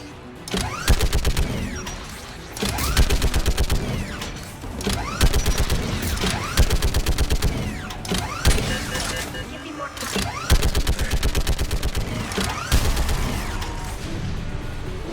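Heavy turret gunfire in Mass Effect 3 pounds in repeated loud bursts of rapid shots, separated by short pauses, with mechanical whirring and crashes between volleys.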